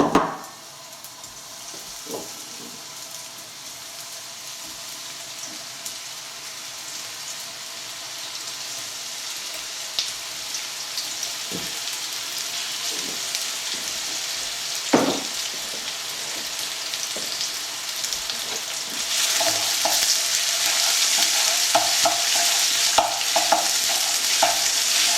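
Strips of beef sizzle and fry in hot oil in a pan while being stirred for a beef and black bean stir fry, a steady loud hiss that grows louder toward the end, with occasional scrapes and clinks of the utensil.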